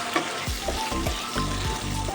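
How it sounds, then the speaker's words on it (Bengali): Paneer crackles and sizzles in hot oil, a dense continuous frying hiss with a few soft taps from stirring. "এদিকে কিন্তু পনিরটাও ভালোভাবে ভাজা হয়ে গেছে"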